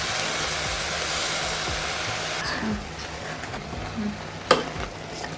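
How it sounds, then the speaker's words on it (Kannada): Masala spices frying in a hot pan for a festive home-cooked dish, with a continuous close sizzle and hiss broken by a few scraping stirs and one sharp clink near the end. "ಇದನ್ನೆಲ್ಲ ಒಂದು ಐದು ನಿಮಿಷ ಫ್ರೈ ಆದಮೇಲೆ ಎಲ್ಲದಕ್ಕೂ ಹಸಿ ವಾಸನೆ ಹೋಗಬೇಕು ಅದಾದಮೇಲೆ ಮಸಾಲೆನ ಸೇರಿಸ್ತಾ ಇದ್ದೀನಿ"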